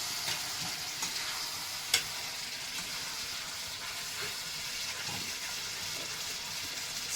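Chicken leg pieces frying and being stirred in a pan, a steady loud sizzle with scraping stirs and one sharp clink of the utensil against the pan, no talking.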